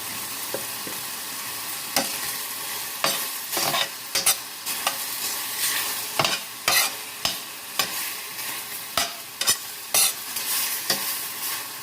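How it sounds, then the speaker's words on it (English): Chicken and vegetable stir-fry sizzles steadily in a hot pan, broad crackling hiss throughout, punctuated by repeated scraping clicks of stirring. "The more sizzling you hear out of it, the better."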